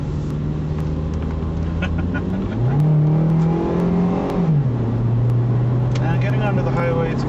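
A car engine hums, then revs up to a higher pitch and settles back down, loud and close, with a person talking over it.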